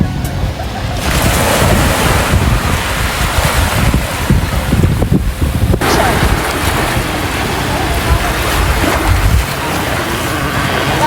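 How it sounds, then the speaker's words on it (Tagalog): Sea waves wash steadily onto the beach at Pico de Loro, a loud, continuous surf roar with heavy wind buffeting the microphone throughout and no speech. "andito kami ngayon sa beach ng Pico De Loro"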